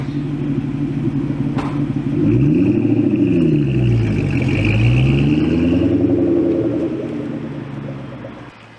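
A car pulling away for a test drive, its engine revving up through several gears with rising and falling pitch, loud and close at first then fading as it drives off, with no talking.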